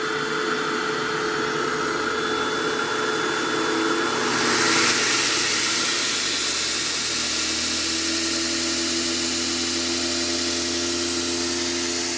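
Blower motor on a homemade 2x72 belt grinder built from a treadmill motor, a steady, loud whirring hiss that rises briefly in pitch and then settles into a continuous drone, with no talking.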